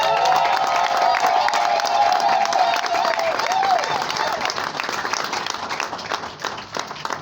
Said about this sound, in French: Vous voulez la manifester par des vibrantes acclamations.